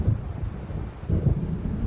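Low rolling thunder from an approaching storm in Alan Wake, two deep rumbles swelling and fading alongside wind and rain.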